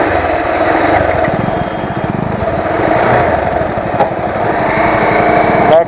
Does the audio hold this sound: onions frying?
no